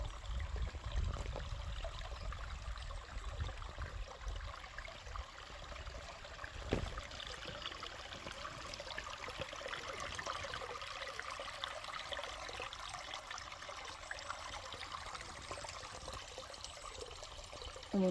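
Small stream of water trickling and splashing steadily over rocks, close by and continuous, with no voices.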